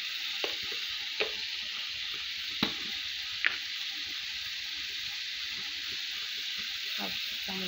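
Ground spices with half a spoon of chilli powder sizzle and fry steadily in a pan for a gourd and stinging catfish curry, with a few sharp stirring clinks over the constant hiss.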